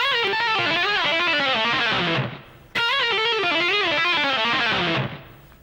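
Distorted electric guitar fires off a fast repeated lick from a guitar solo, rapid pull-off notes in two bursts separated by a brief gap, loud and up close.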